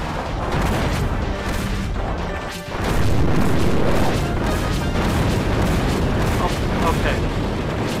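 A bomb explodes in the video game Kirby Triple Deluxe, a loud booming blast that swells and sustains amid busy game sounds and music.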